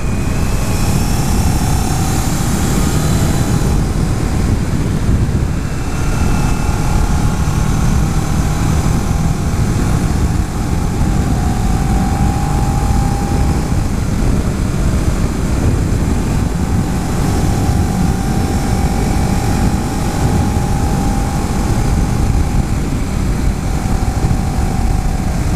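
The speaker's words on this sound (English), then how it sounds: "I tend to rev bikes high, so let's try it in a higher gear to see how torquey it is" A 2011 Kawasaki Ninja 650 parallel-twin motorcycle engine drones loudly and continuously while riding, held at steady revs in a higher gear with wind rush, no talking.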